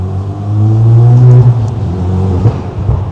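A Dallara car revving up nearby with a rising engine note, then crackling exhaust pops as the throttle closes, in Monaco.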